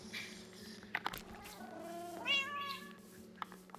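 A cat meows in the video game Minecraft, a couple of rising and falling meows at moderate level over a low steady background hum.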